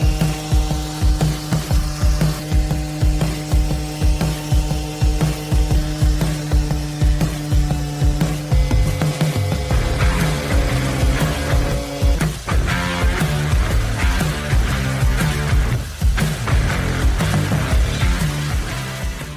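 Electric sander working over wooden furniture before chalk painting, with a steady motor hum and regular rhythmic scrubbing passes repeating throughout, loud and close.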